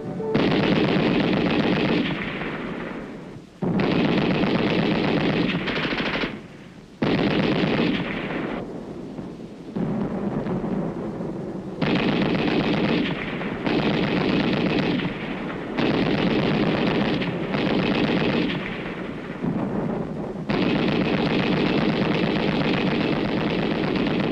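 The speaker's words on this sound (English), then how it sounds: "Allied troops open fire with machine guns on an enemy-held area" Machine gun fire in battle: long, loud bursts of rapid automatic gunfire, repeated with brief gaps between them, in old wartime newsreel sound.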